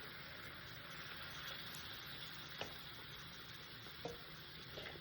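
A sauce preparation is stirred in an All-Clad pan while frozen fish cooks, giving a steady sizzling hiss throughout with a few soft scraping clinks near the end.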